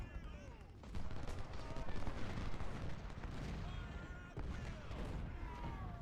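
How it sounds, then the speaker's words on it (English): Artillery and massed musket fire in the Civil War strategy game Ultimate General: Civil War, a continuous roar of overlapping booms and crackling shots with two sharp surges of louder cannon blasts, close and unbroken. "I didn't expect the artillery to be quite that potent"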